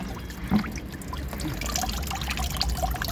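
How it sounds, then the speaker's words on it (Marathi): Water is poured from a container into a plant pot freshly filled with soil in a terrace garden, a steady close trickle and splash lasting throughout, with no talking. "हे पहिलं पाणी हे त्याच्यात भरून घेतलं"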